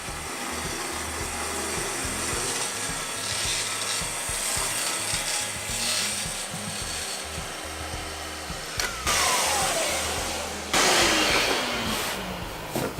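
Festool TS track saw cutting through a thick slab door, a steady loud rasping whir of the blade biting wood, close and continuous, with the pitch shifting near the end as the cut finishes.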